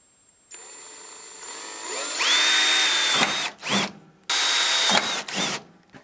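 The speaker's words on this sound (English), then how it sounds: "So I'm going to first drill a small hole as a pilot hole." A power drill bores a small pilot hole in a metal snow blower headlight bracket, its motor whining up to speed in several close, loud bursts that start and stop as it bites into the metal.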